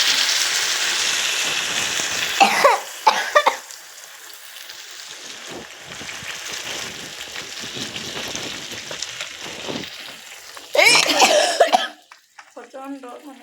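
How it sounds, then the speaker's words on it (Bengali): A young girl coughs hard in two close, loud bursts of several harsh coughs each, separated by a quieter stretch of faint room noise. "প্রচণ্ড মানে কাশি উঠে গেছে আমার মেয়ের।"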